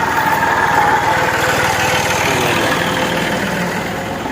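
A tractor engine running in a village, a steady loud mechanical drone close by that holds evenly throughout with no voices over it.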